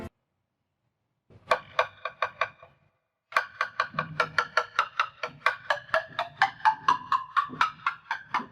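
A picanussa, a traditional Indonesian instrument, is struck in a short burst of bright rhythmic hits. After a pause comes a longer, steady run of evenly spaced plucked or struck tones, close and fairly quiet, with no voices.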